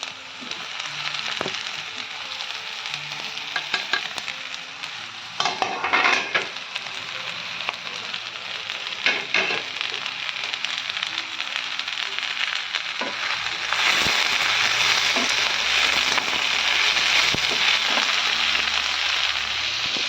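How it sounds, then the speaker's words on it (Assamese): Onions and tomatoes fry in a kadai for matar paneer, giving a continuous oily sizzle broken by scraping stirs and clatters, then growing louder and denser as fresh ingredients hit the hot pan. "পিঁয়াজখিনি প্ৰায় ভাজি হ'ল। এতিয়া মই দিম বিলাহীখিনি।"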